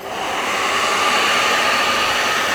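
A vacuum cleaner runs steadily over a ski base during tuning, a loud continuous whooshing roar held close with no pauses.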